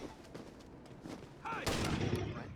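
Shotgun fire in the video game Rainbow Six Raven Shield, heard during a room-clearing mission: one sudden loud blast and its rumbling tail come after quieter game ambience and radio chatter.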